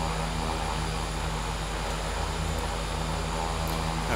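A Cessna Caravan engine in a flight simulator game runs as a steady, loud droning hum with a constant whine on top, unbroken for about four seconds.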